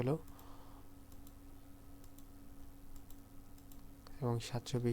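Number keys tapped on a computer keyboard in a light, quick run of clicks while setting a document size in Adobe Illustrator, faint under a quiet room hum, followed by someone speaking at the end.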